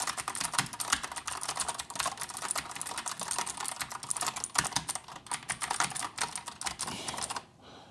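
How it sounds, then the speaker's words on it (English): Rapid, continuous typing on a Keychron C2 mechanical keyboard with blue switches, loud and close, a dense clicky clatter of keystrokes that stops abruptly near the end. "with a blue switch keyboard, it's all about that clickety clankiness, that beautiful keyboard music"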